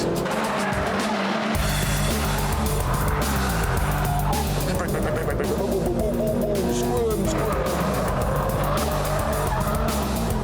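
A Suzuki Swift is driven hard around a race track lap, its engine loud and continuous from inside the car, with tyres squealing through corners and someone talking over it.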